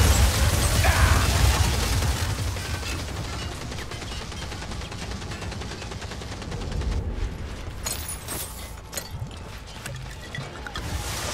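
A Ratling gunner firing in the video game Warhammer Vermintide 2, a dense, continuous rapid-fire rattle of shots that runs the whole stretch amid battle noise, louder at the start.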